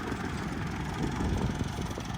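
A 265 tractor engine running steadily, a continuous low rumbling drone close by with no talk over it.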